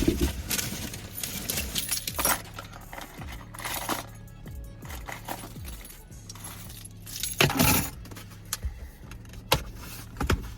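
Car keys jangle and clink in short bursts, close but fairly faint, with a few sharper metallic rattles and quiet vehicle sounds around them and no talking.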